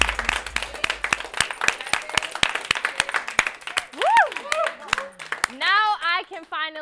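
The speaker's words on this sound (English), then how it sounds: "I can finally clap my hands." A talk show host claps her hands in a crisp, steady series of about twenty sharp, close claps, then stops and talks with expressive, rising and falling intonation.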